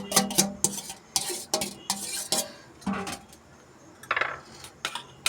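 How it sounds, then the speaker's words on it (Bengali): Beaten eggs being stirred into a chicken filling for Mughlai chicken paratha, with a spoon clinking and scraping against a metal bowl in irregular bursts, close and crisp, with quieter stretches of soft mixing between strikes and no talking. "চিকেনের পুরের মধ্যে দিয়ে এটাকে ভালো করে মিশিয়ে নেব।"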